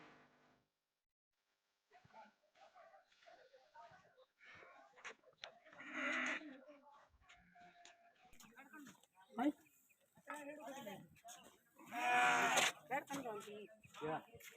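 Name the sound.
sheep bleating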